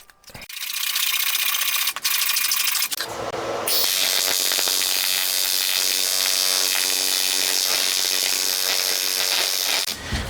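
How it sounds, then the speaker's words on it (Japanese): Welding to fill a gap in a motorcycle engine case, on a handbuilt 125cc four-cylinder 16-valve engine joined to a stock case: a loud, steady crackling hiss that runs nearly continuously, with a short break and shift early on, then cuts off at the end. "ここを溶接で埋めることをやってきます"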